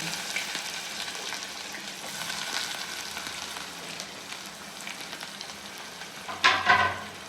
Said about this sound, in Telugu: గోల్డెన్ కలర్లో వచ్చేదాకా బాగా తిప్పుకోవాలి, బాగా ఫ్రై చేసుకోవాలి.